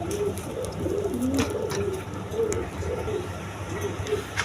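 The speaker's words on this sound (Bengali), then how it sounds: "হাই ফ্লাইং গিরিবাস কবুতর" Pigeons coo repeatedly in a steady, overlapping rhythm at a farm where high-flying Giribaz pigeons are kept with their eggs and chicks, the birds close by over a constant low background hum.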